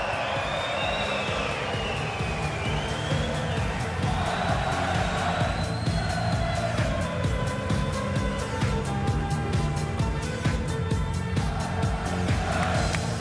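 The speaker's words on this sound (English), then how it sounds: "Listen, take the applause one more time" A darts arena crowd applauds and cheers Gerwyn Price after his big win with a 170 checkout, a dense, steady roar of clapping and voices that holds loud throughout with a few whistles above it.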